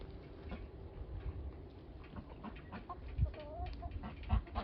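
Young hens cluck softly and intermittently in the background, with occasional scratching and rustling, quiet and a bit distant.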